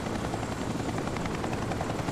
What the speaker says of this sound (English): One more helicopter.